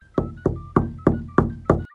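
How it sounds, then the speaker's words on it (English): Six evenly spaced knocks on a door, close, loud and hollow-sounding, as a story sound effect, heard alone. "the knock rang again, this time softer"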